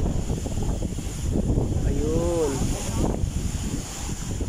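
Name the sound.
strong wind on hilltop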